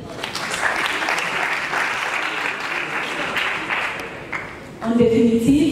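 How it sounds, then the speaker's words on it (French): An audience at a debate applauds in a sustained, even burst of clapping that fills most of the stretch before fading, after which a voice begins speaking. "on applaudit s'il vous plaît"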